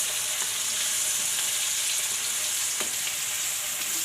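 Chopped onions frying in hot oil in a pan with garlic and green chillies, a steady loud sizzle with crackle throughout and no voices.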